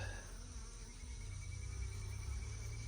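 Honey bees at a backyard hive make a steady, close, continuous buzzing drone that holds level throughout, with no voices over it.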